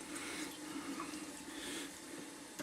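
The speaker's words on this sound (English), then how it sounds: "I'm going to add some more water and fill the tank up" Water runs into a toilet tank as it refills after a flange repair, a steady soft hiss and trickle throughout, faint and even with no talking.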